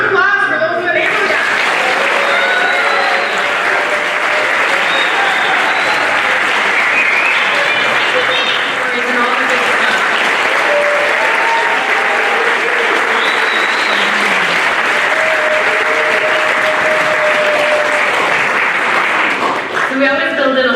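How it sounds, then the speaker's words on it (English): Long, loud, sustained applause comes from a community center audience at a neighborhood gathering. Whistles and voices from the crowd rise above the clapping throughout. "Round of applause for those in the neighborhood."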